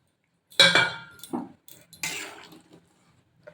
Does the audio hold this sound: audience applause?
no